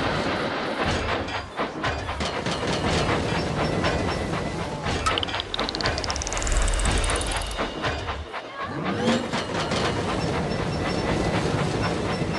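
Toy train engine from the Thomas & Friends Minis video game rolls along its tracks with a steady clickety-clack, steam hiss and a rising whistle-like sweep, running continuously and loud with busy game music behind it.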